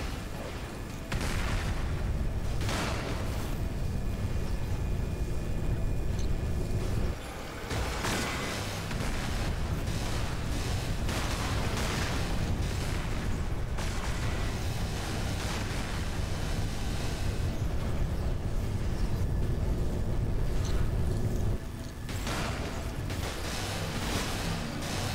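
Huge booming blasts from nuke weapons in the sci-fi shooter game Cryptark, a continuous roaring wall of explosive rumble with several sharp surges and brief dips, loud and dense throughout.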